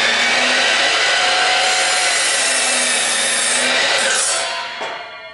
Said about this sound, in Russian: Пилу нашу модную, короче, включаем.